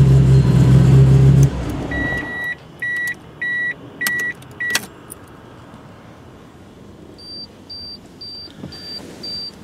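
The engine of a 1997 Nissan Skyline GT-R V-Spec R33 idles with a low rumble, then cuts off abruptly. A steady series of electronic chime beeps and a faint jingle follow in the quiet cabin.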